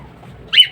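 A pet pigeon or dove in a keeper's bird enclosure gives a single short, close coo after a quiet moment, with no one speaking.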